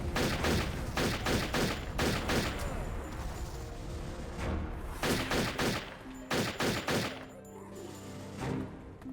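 Gunfire in the video game Turok 3 as snipers are shot; loud, close bursts of rapid shots repeat in clusters over a constant game background.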